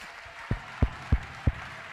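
Four slow, evenly spaced hand claps sound over a faint hum during a church worship service, each clap sharp and distinct rather than a full round of applause.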